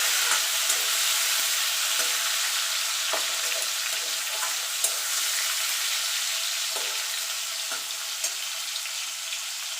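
Tomato frying in a pan with tempering spices and salt, a steady close sizzle with light stirring scrapes throughout, no voices.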